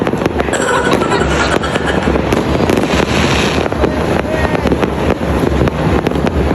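Rooftop New Year's fireworks crackling and popping nonstop, loud and dense, with repeated sharp bangs over a continuous roar of distant explosions.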